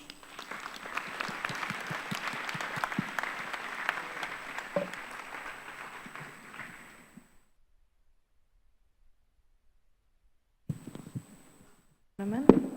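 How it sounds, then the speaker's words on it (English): An audience applauds the panelists at a financial inclusion policy forum, dense clapping for about seven seconds that stops into silence, followed by brief faint sounds near the end. "please also a round of applause for Michael for the very interactive session"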